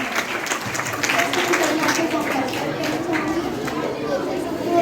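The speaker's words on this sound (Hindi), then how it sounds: "जोरदार तालियों से हमारे पीएम साहब का स्वागत करें।" At a school mock parliament, a crowd in a hall applauds steadily to welcome the prime minister, with chatter running underneath.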